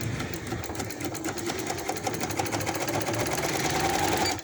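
A sewing machine stitches elastic onto a sleeve at a half-inch margin, running in a steady, continuous whirring rattle at close range without a break.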